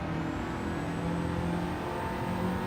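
Engine of a rotary-swapped car revving in the racing game Gran Turismo 7, a steady, loud, buzzing drone that holds throughout, with no voices.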